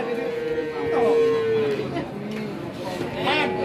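A male Limousin calf about three months old moos with a drawn-out, tonal call at a busy cattle market in Tuban, while people chatter and talk nearby throughout.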